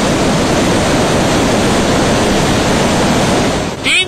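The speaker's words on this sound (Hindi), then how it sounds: "300 फुट की ऊंचाई से पानी का जबरदस्त प्रहार" A flood torrent plunges from 300 feet with a loud, continuous, roaring rush of water that fills the whole span without letup, then cuts off abruptly at the end.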